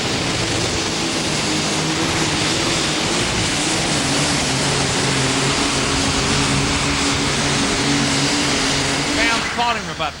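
Super stock pulling tractor engine at full power during an NTPA Super Nationals pull in Tomah, Wisconsin, a loud, continuous droning roar with steady engine harmonics, heard under crowd noise and a commentator's voice.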